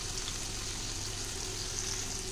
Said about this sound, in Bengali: এই দেখো আলুটা অনেকটাই ভাজা হয়েছে